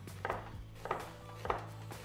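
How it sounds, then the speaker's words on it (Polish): Kitchen knife slicing two onions, one large and one small, into half rings on a board, with four evenly spaced sharp chops over a low background hum, close and fairly quiet. "Kroimy w pół plasterki."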